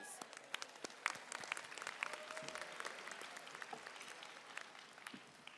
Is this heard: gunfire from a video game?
no